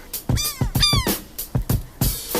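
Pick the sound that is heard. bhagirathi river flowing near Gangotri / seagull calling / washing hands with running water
seagull calling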